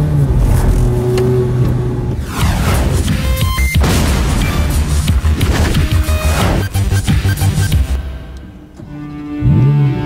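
Ferrari F430 Scuderia sports car engine revving loudly and continuously, with rising and falling sweeps of engine pitch through several surges, the roar dipping near the end before a final burst.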